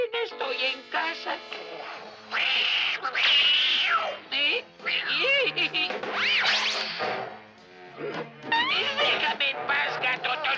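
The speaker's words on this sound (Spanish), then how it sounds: "¡Déjame en paz, gato tonto!" A cartoon cat in a Smurfs episode meows and caterwauls repeatedly in drawn-out, rising cries, close and loud, mixed with a character shouting over it.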